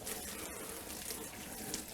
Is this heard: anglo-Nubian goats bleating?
no